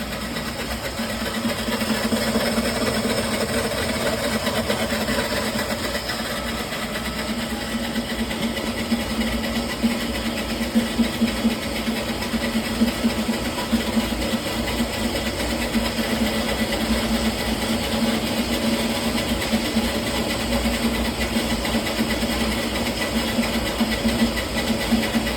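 A kitchen sewer snake machine drives a drain cable, giving a steady, continuous mechanical hum and whir with faint hiss, close and unbroken for the whole stretch.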